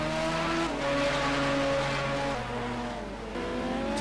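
Simulated race cars lap the Kyalami circuit in a sim racing game, a Dodge Viper among them, engines droning loud and steady with shifting pitch as they accelerate and change gear, no talk.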